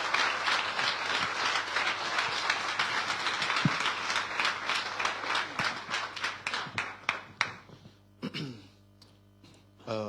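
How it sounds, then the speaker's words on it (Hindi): Church convention audience applauding loudly to welcome a pastor, dense continuous clapping that thins into scattered claps near the end, with a low hum underneath. "यहां पर जोरदार तालियां खुदा के खादिम के लिए."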